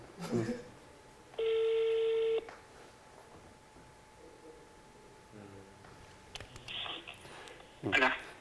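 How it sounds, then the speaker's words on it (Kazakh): Phone call placed from a TV show studio: a sustained ring tone, short dialing beeps and clicks, then faint clicks and tones with brief talking between them. "Айта кетиңизчи, Атайга чалганда дароо кабыл алабы?"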